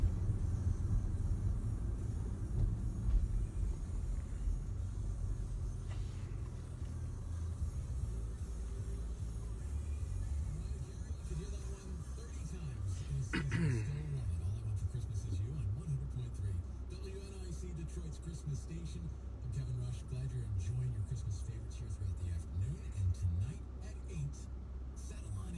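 A car drives through downtown streets past the Greektown Casino, a steady low engine and road rumble from inside, with a person talking over it throughout.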